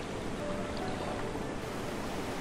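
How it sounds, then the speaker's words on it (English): Seawater waves surging and breaking along a seashore where land meets sea, a steady broadband wash that stays loud and continuous throughout with no voices. "The waves bring seawater."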